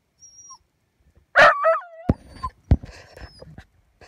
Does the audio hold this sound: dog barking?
yes